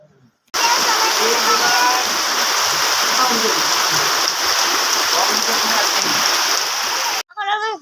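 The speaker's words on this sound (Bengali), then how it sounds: "এত সুন্দর করে সমস্ত হাঁসগুলো একসঙ্গে হয়ে বৃষ্টিতে ভিজছে" Heavy rain pours down steadily over a flock of ducks gathered together outside, a loud, even hiss that starts abruptly and stops just as suddenly before a voice is heard.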